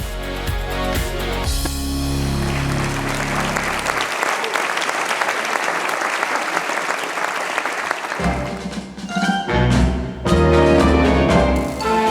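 Audience at the 20th-anniversary gala evening of Initiative Savoie, a circus-themed show, applauds in a loud, sustained round of clapping, with music playing beneath it at the start and end.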